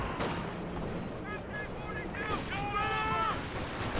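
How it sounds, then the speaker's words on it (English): Rapid gunfire from a black half-track in Company of Heroes 2 clatters in quick bursts amid a dense battlefield din of other shots and explosions, with overlapping voices and radio chatter. "Black half track firing away"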